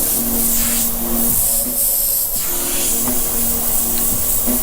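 An airbrush sprays paint onto a T-shirt, giving a steady, close hiss that runs without a break, with a faint tonal hum from the compressor underneath and no talk.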